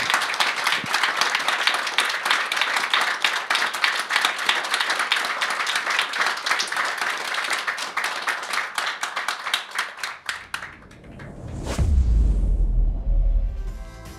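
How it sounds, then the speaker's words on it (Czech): Audience applause closing a Czech talk on Alfons Mucha: dense, steady clapping from a crowd for about ten seconds, then dying away, followed by a single deep thump and low rumble. "A teď prosím, zatleskejte Jana Drnková, Jan William Drnek, Jarmila Muc"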